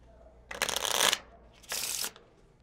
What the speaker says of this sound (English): All right, give them a shuffle.